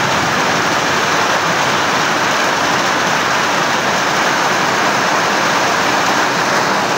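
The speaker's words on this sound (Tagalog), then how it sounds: "Ayan, yung ulan po lumalakas, sumihina na naman. Ngayon lumakas ulit." Heavy rain pours in a steady, dense roar that holds at the same level throughout, with no voices.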